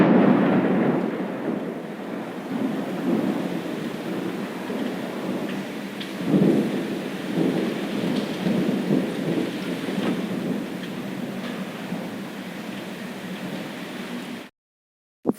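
Steady heavy rain with repeated rolling thunder rumbles during a rainy-season storm, loud and continuous throughout before cutting off abruptly near the end.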